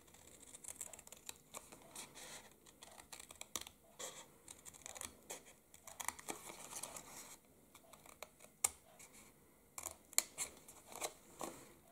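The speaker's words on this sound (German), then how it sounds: "dieses lange Rechteck schneiden wir raus" Scissors snip steadily through a long rectangle of paper while crafting gift packaging for a face mask, producing close, crisp repeated cuts with faint paper rustles and no voices.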